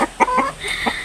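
Unusual chickens with feathers like a dog's fur cluck in short, separate bursts nearby, a few quick notes spread across a brief moment.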